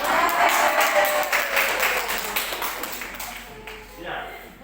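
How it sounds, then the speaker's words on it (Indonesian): Applause for community health cadres at a family planning outreach session in Morowali, a broad wash of clapping from a crowd that swells at the start and then thins and fades over several seconds. "tepuk tangan untuk kader Bungku"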